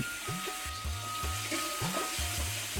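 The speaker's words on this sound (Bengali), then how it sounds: "খালি কড়াইয়ে ছেড়ে দেয়া হলো পেঁয়াজ আর রসুনের কুচি। তারপর যোগ করা হলো খাঁটি সরিষার তেল।" Chopped onion and garlic frying in pure mustard oil in a karahi, a close, continuous sizzle broken by a regular run of short scraping stir strokes, with no one speaking.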